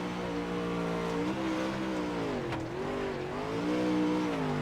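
A race car laps in an eSports racing video game during qualifying, its engine holding a steady, loud, harmonic drone that rises and dips with throttle and shifts through the run.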